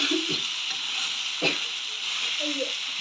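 Ingredients for a Jaffna-style prawn curry fry in hot oil with a steady, close sizzling hiss, broken by soft scraping stirs and brief faint vocal sounds.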